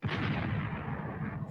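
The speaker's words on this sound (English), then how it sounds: "Drop a bomb for me." A deep, booming explosion rumbles loudly and sustains with heavy low roar, sounding like a blast effect.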